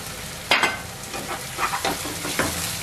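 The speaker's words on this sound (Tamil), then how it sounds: "அடுத்ததா கட் பண்ணி வச்சிருக்க தேங்காய் துண்டுகளை சேர்த்துக்கலாம்." Coconut pieces for a mutton ghee roast fry and sizzle in a pan, with a steady hiss broken by a few distinct stirring scrapes, close and without speech.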